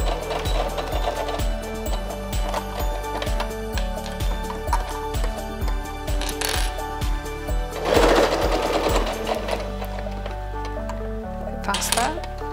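A sewing machine runs a dress seam in close, rhythmic bursts of rapid stitching, pausing and restarting, while a voice talks over it and music plays in the background.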